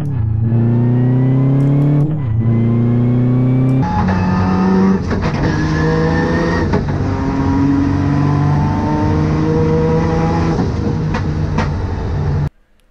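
A drift car engine revs hard in a short third gear, pitch climbing steeply and dropping with each quick shift, loud, close and continuous with no talking.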